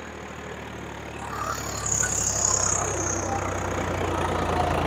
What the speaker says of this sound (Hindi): आवाज दब रही है ट्रैक्टर की